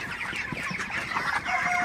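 Broiler chickens on a farm cluck in a busy, steady chorus of overlapping calls, close and fairly loud throughout.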